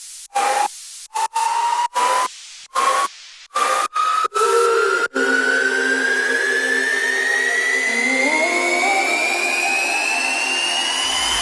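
Serum effect section with a saturated riser: choppy gated bursts of noisy synth stutter for several seconds, then a continuous bright tone sweeps steadily upward in pitch, thick and buzzy, building in intensity until the end.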